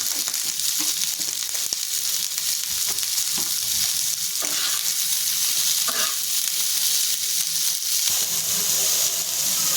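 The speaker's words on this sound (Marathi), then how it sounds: "थोडा मीठ टाकते कारण कांदा पटकन भाजला जातो" Chopped onions with a little salt fry loudly and steadily in a pan for a vegetable biryani, a dense continuous sizzle with occasional stirring scrapes throughout.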